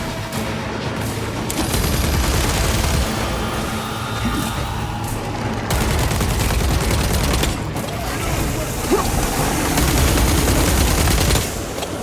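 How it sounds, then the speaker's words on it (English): Sustained concentrated gunfire in Warhammer 40k: Space Marine 2, dense overlapping bursts rattling loudly for the whole stretch while Space Marines focus fire on the Neurothrope, with a few heavier impacts mixed in. "Concentrate fire on the neurothrope."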